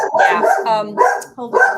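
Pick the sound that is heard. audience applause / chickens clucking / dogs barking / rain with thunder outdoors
dogs barking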